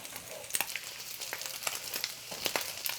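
Bacon sizzles and spits in a hot pan as it crisps for spaghetti carbonara, a steady frying hiss broken by sharp crackles and pops, close and alone with no voices.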